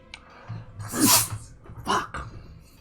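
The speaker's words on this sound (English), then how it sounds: "I hate sneezing" A single person sneezes loudly and close, with a sharp burst followed by a second shorter exhale or half-sneeze, with breathy sounds around it and no speech.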